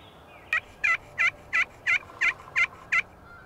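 A series of eight clipped, gobbling-style wild turkey calls in a steady rhythm from a hen and young males, fairly close and clear over a quiet outdoor background.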